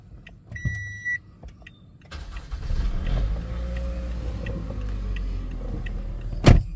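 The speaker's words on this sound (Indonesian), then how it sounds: "kita nyalakan start check engine nya" A 2012 Toyota Camry 2.5V cranks and its engine catches, settling into a steady low rumble after a few quiet clicks and chimes, with a sharp loud transient near the end.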